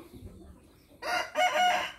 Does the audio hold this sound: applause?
no